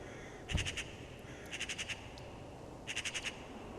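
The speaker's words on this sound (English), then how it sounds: "The raven is one of the most intelligent creatures in the animal kingdom" Raven calling in the wild at Yellowstone National Park, three bursts of rapid harsh repeated notes spaced across the clip at moderate distance, with no talk.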